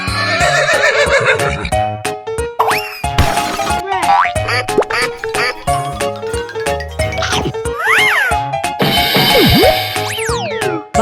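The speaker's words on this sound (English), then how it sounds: "Horse." A cartoonish horse neighs among a busy mix of boings, jingles, chimes and playful sound effects, loud and layered over a bright, bouncy backdrop.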